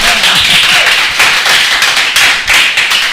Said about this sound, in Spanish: ¡Vienen, un aplauso!